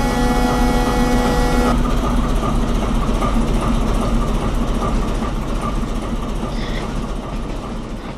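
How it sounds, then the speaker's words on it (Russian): A ChM3 locomotive hauling compartment coaches in Minecraft rumbles steadily throughout, a loud low engine drone with rail noise and a higher tonal hum during the first two seconds. "Это же ЧМ3 с купе вагонами."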